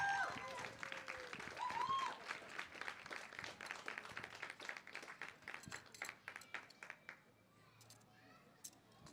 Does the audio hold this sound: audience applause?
yes